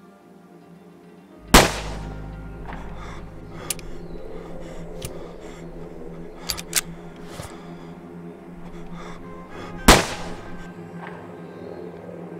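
Two sharp, loud gunshots in the survival video game Survive The Nights, one early and one late, set against a steady low game ambience with a few faint clicks between them.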